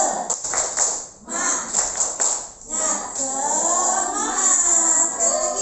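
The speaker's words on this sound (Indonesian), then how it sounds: "Oke, biar semangat kita tepuk semangat dulu ya. Tepuk semangat." A group of adults in an Indonesian school setting performs the rhythmic 'tepuk semangat' cheer, with a quick patterned burst of claps followed by voices calling out together, in a reverberant room.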